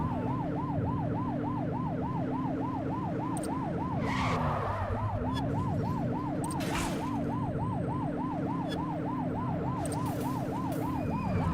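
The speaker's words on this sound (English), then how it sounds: "Remember to turn your siren on." Police car siren in the video game The Precinct wails in a steady, fast up-and-down cycle throughout, loud and continuous over engine and road rumble, with brief bursts of other noise partway through.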